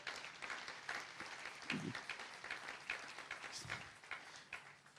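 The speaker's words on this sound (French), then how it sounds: "Est-ce qu'on peut acclamer la parole de Dieu?" A church congregation applauding, a soft, scattered patter of clapping that rises and falls in small waves, fairly distant, with a faint voice or two underneath.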